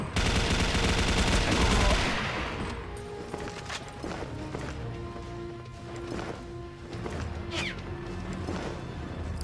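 A gold-and-black MK5 turbine machine gun fires in a video game, first a loud continuous roaring burst, then scattered heavier shots and impacts over a lower mechanical hum.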